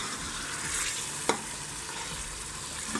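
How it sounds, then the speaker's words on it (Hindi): Chicken gizzard and liver frying with tomatoes in a pan, a steady close sizzle with soft stirring scrapes and one sharp clink, brief and without talk. "अब हम इसको अच्छे तरीके से 2 से 3 मिनट के लिए भूनेंगे"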